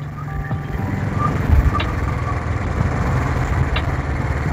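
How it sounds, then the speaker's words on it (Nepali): A Royal Enfield Classic 350 motorcycle, reportedly running rough, rumbles steadily while riding along Kathmandu's Ring Road near a bus park. The low engine drone is loud and continuous, mixed with traffic noise and a couple of brief distant horn-like tones. "मोटरसाइकलको आवाज अलिकति खराब भइरहेको छ।"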